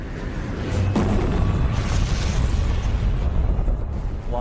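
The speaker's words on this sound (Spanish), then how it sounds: "La lava sale a la superficie y entra en erupción con una explosión." A volcanic eruption with an explosion and lava fountain, a loud, sustained deep rumbling roar with a sharper burst near the start, continuing without pause.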